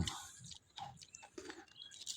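A pig crunching on a stone, giving soft, close crunchy chewing in short bursts with pauses between them, quiet overall and with no talk.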